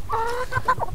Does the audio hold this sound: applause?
no